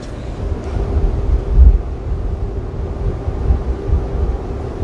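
Strong wind buffeting across a cruise ship deck, a loud low rumbling roar with gusty surges and no voices.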